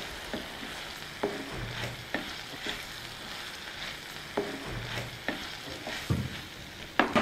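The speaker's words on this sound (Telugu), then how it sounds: "ఇందులోని శుభ్రం చేసుకున్న రెడ్ క్యాబేజీని వేసేసుకుందాం." Red cabbage with garlic stirred in a hot pan: a quiet continuous sizzle broken by repeated scraping strokes of a spoon roughly every second, close and without voices.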